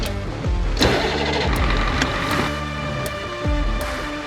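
A Hummer engine starts up with repeated mechanical clunks and sharp clicks, then settles into a mid-pitched running rumble at close range.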